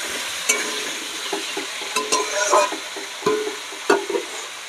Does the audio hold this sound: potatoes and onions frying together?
yes